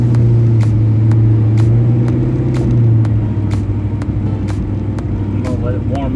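A car engine rumbles low and steady on the move as it warms up, with a constant drone and faint ticking running throughout while someone talks over it.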